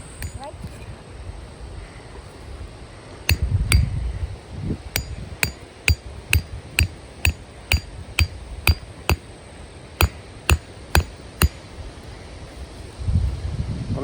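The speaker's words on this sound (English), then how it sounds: "You have to hammer right there." Sharp metallic hammer strikes on welded metal ring out in a quick, fairly regular series, with some rustling and handling noise before and after.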